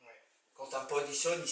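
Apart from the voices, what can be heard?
No everyday noise stands out behind the speech.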